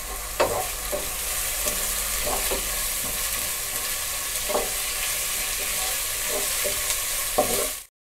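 Sliced onions frying in a pan as ginger garlic paste goes in for chicken kosha: a continuous close hiss of oil with scattered stirring scrapes and taps throughout, no voices, cutting off abruptly at the end.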